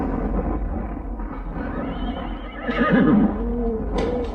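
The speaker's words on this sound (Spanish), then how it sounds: "el oficial desató del árbol las riendas del caballo, montó en él y se lanzó al galope por el camino" A horse whinnies loudly in a radio drama effect, a rising, shaking neigh set over a steady rumbling bed of hoofbeats and ambience, with no talk.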